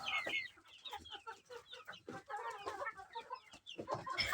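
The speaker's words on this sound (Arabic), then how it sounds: "زي ما انتم شايفين معانا اهو الديوك طبعا للذبح" Roosters raised for slaughter clucking close by in a household flock, a busy run of overlapping short clucks and calls, quiet overall.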